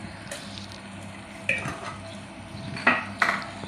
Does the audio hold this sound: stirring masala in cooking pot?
yes